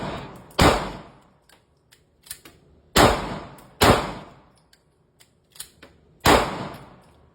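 Handgun shots fired during a tap-rack-bang jam-clearing drill: four loud, sharp reports spaced a second or more apart, with smaller metallic clicks and clacks of the slide between them, outdoors with no talking.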